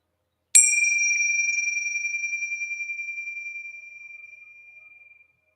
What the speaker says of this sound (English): We start the practice by hearing the bell again.